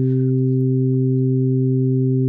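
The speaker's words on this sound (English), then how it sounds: "those three tones are no longer separate" Three steady harmonic sine tones sound together and blend into one sustained, slightly richer tone, loud and unbroken, with a faint higher blip right at the start.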